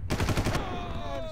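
Rapid gunfire from the video game Far Cry 2, a dense burst of repeated shots in the first half second that then falls away into a ringing tail and background game ambience.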